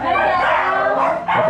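A dog gives short, excited barks and yips close by, with people talking over them.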